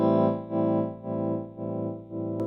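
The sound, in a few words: slow subtle tremolo on clean guitar, Electro Harmonix Wiggler pedal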